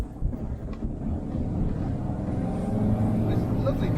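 Air-cooled 1.6 litre engine of a Volkswagen split-window Kombi droning steadily while driving, a low rumbling hum with wind noise that builds slightly toward the end.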